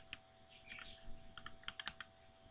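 Quiet computer keyboard typing, a scattering of soft clicks picking up into a quicker run of keystrokes near the end, close by over a low background hum.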